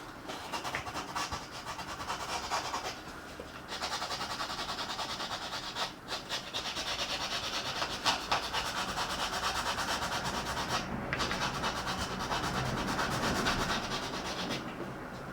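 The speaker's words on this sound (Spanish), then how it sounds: "Veis que por aquí apenas lijamos, es más bien esta parte de atrás." Steady, close rasping of sanding a carved styrofoam head, a dry scratchy scrubbing that runs continuously with only a few brief pauses.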